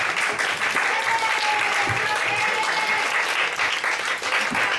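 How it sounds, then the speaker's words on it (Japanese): Audience at a festival show in Narita claps continuously, a dense, loud wash of many hands with scattered individual claps standing out, sustained for the whole stretch. "最初に拍手しませんと、"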